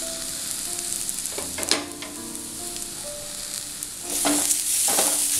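Shallots fry for ulli thoran in a pan, a steady close sizzle with a few spoon scrapes and knocks as they are stirred, the frying swelling louder toward the end.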